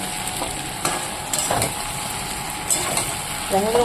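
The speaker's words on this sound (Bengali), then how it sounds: "লাল লাল করে কষিয়ে নিয়েছি মাংসটাকে" Goat meat and fried potatoes being browned together in a pan, a continuous close sizzle with repeated spatula scrapes and clinks against the metal, no voices.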